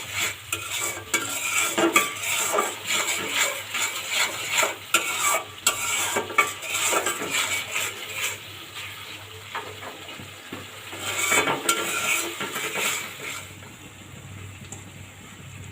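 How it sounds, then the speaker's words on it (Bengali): Spice masala for khichuri is stirred and fried in a pan, a continuous sizzle with frequent scraping strokes of a spatula, moderately loud and close, no talking. "তারপরে আরেকটু মশলাটা আমি নেড়ে চেড়ে কষিয়ে নিব।"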